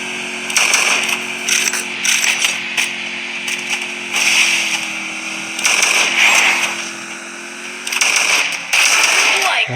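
Gunfire in a shooting video game, sharp bursts of shots coming in several clusters across the stretch, loud and close, over a steady tonal game background hum while someone talks excitedly.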